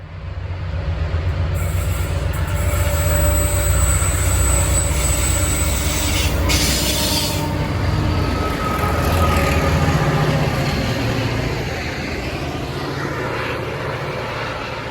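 Freight train hauled by an 82 class, a 48 class and an 81 class locomotive passing a station, a loud continuous diesel roar and deep rumble with steady wheel noise, building slightly then easing off.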